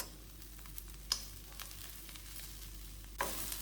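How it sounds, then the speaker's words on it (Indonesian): Quiet, steady sizzling of chopped cabbage stir-frying in a pan, with a few soft clicks and scrapes of stirring, one sharper clatter near the end. "Lalu kita aduk sebentar aja sampai kolnya layu."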